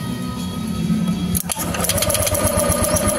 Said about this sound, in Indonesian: Kita coba starter lagi.